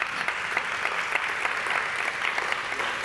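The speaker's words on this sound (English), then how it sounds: "Give him a warm round of applause." A conference audience at a ChangeNOW 2022 regenerative agriculture session applauds a speaker, steady, moderately quiet clapping from a large crowd with a few sharper claps standing out, no talk.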